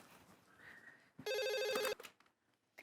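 A short electronic telephone ring, a bright repeating trill lasting under a second, heard close amid quiet room sounds.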